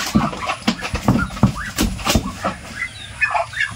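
A few ducks, some of them drakes, on a duck farm, giving a run of short, rough, honking calls close by, several bursts spaced irregularly across a few seconds, with no talk.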